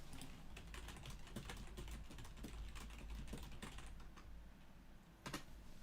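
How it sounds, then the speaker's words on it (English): Rapid typing on a computer keyboard, a dense run of quick clicking keystrokes in a fairly quiet room, ending with a final sharper tap. "That was some fast typing."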